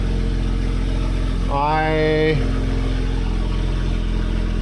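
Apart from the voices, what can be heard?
BMW convertible engine idling, loud with top down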